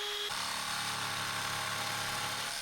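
Wood router buzzing steadily as it rounds over the edges of footstool parts, a continuous close, loud machine whine throughout with no talking.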